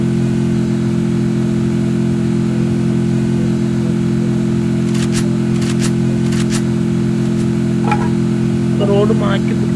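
A jeep engine in a battle royale video game hums at a steady idle that runs through the whole stretch, with brief clicks and a voice speaking faintly over it near the end.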